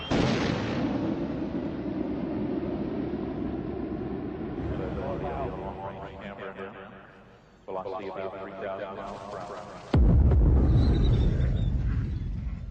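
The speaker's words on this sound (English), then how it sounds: "The shuttle announces its arrival with 2 sonic booms as the leading edge of the wing and tail break the sound barrier." A space shuttle arriving sets off two sonic booms, heavy abrupt thuds a few seconds apart. The second is louder and rumbles on, with a voice speaking through the recording.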